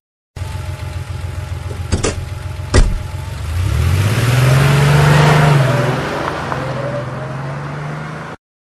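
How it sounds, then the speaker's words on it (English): Two sharp clacks, then a nearby taxi's engine revs up, holds a strong hum, and eases down while idling. "Taxi."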